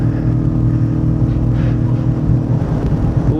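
A race car at Phillip Island holds full throttle through sweeping left-right corners, its engine a loud, steady in-car drone with firm harmonic tones and no pauses.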